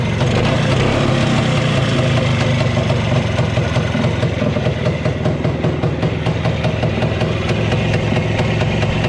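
The engine of a Muravei motor scooter runs steadily and loudly close by, a continuous rough, buzzing mechanical drone with a fast, even pulse and no talking over it.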